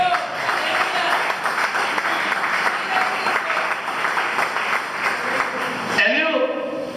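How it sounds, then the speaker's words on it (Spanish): Applause from a church congregation during a sermon, dense and sustained for several seconds, with a voice speaking over the clapping before it cuts off abruptly and talk continues. "Dale un aplauso al Señor."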